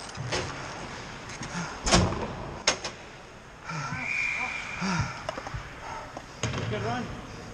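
A door is shut in a hockey locker room, giving a few sharp thuds and clatters among loud voices and background bustle.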